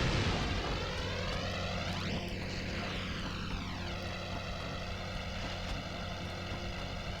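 An out-of-control propeller plane in the Spider-Man 2: Enter Electro video game drones loudly and continuously. Its engine pitch swoops up and then falls back as it passes, with no talk over it.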